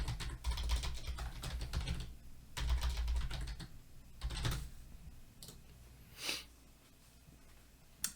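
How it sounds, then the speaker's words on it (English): Quick bursts of keystrokes on a computer keyboard, close and quiet, coming in short clusters separated by pauses, with a few breaths or sniffs and no talking. "just go back to topic selection and type in computer science."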